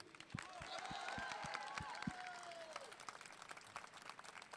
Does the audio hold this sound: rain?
no